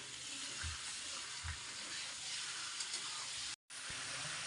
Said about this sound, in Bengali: আমি এক মিনিটের জন্য মুরগির মাংসটা একটু ভাজা নেবো